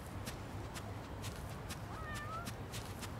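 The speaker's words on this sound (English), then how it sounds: "Yep, I hear a cat." A cat in the video game Yakuza: Like a Dragon lets out a short, faint meow partway through, under background ambience and steady footstep-like taps, with no talk.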